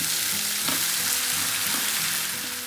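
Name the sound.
goat brain being mixed and roasted in a pan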